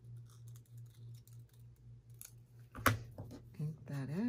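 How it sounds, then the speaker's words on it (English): Scissors snip a paper tag for a junk journal, a string of small crisp cuts against a steady low hum, then a brief louder handling rustle near the end. "Let me cut it right here."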